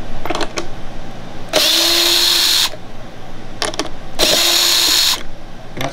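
Power drill backing out a washer head screw: two loud whirring bursts about a second each, separated by a pause, with light clicks and handling noise around them.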